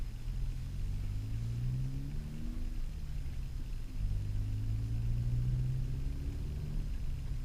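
Car engine with a rev hang delete, heard from inside while driving, a steady low drone rising in pitch twice through gears as it accelerates, loud and continuous with no talk.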